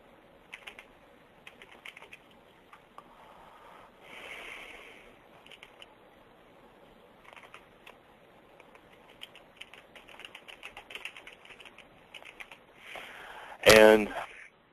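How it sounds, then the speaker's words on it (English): Typing client details on a computer keyboard: bursts of quick, light key clicks come in irregular runs with short pauses, close and fairly quiet, and a louder clatter lands near the end. "So we'll finish typing in some information for this new client that we're generating."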